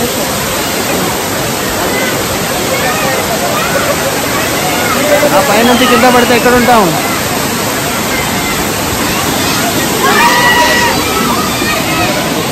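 Swapna waterfall at Manuguru pouring in the monsoon, a steady loud rush of falling water filling the whole clip while people talk over it nearby.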